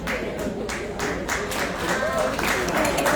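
Audience applause fills a piano bar, steady dense clapping from a crowd sustained throughout at moderate loudness, with some voices mixed in.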